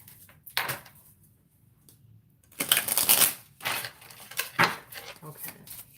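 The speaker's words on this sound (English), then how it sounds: "One final shuffle," Tarot cards riffled in a few quick bursts, close up, with soft handling noises in between and quiet pauses.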